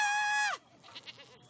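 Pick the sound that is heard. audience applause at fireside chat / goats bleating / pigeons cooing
goats bleating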